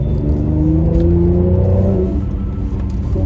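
A 2021 Mercedes C43 AMG engine revs loud and close through a downshift, its deep droning note sweeping between pitches with a throaty rumble and no talk.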